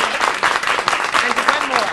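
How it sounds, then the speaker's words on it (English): An audience at a women's roundtable discussion with the DNC chair claps warmly, a dense patter of applause throughout with voices talking over it. "Let's give a round of applause"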